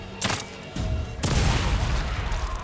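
A bomb detonates in The Evil Within 2, a couple of sharp cracks followed by a heavy rumbling blast that lingers loudly to the end.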